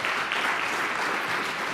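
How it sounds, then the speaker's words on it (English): A general assembly audience bursts into dense, steady applause, a continuous wash of many hands clapping at even loudness through the short stretch, with no talking over it. "they deserve a round of applause also for doing the right thing"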